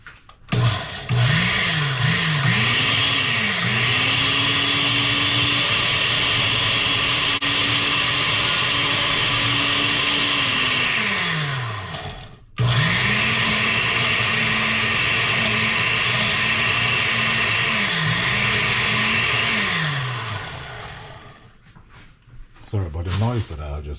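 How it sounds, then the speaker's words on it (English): A kitchen blender whirs loudly and steadily, chopping roughly cut ingredients for a roasted pork shoulder, its motor pitch rising and falling through two long runs with a brief pause between, then winding down near the end. "We'll cover this and we'll just let it just blend it all up."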